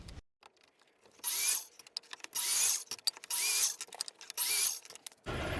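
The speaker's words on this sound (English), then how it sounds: "I'm going to cut 4 pieces out of this at 7 inches" A power saw cuts wood stock into four pieces, giving several loud, harsh bursts of about a second each, separated by short quieter gaps with clicks and handling noises.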